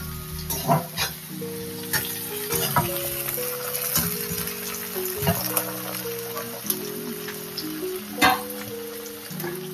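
Chopped vegetables and tomato sauté in a hot pan, a steady soft sizzle and crackle under faint background music, with occasional louder stirring clatters and no talking.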